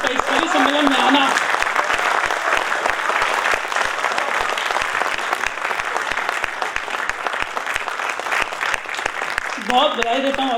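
Applause from the audience at a Hindi poetry gathering (kavi sammelan) rolls on steadily for about ten seconds, with someone speaking over it briefly at the start and end.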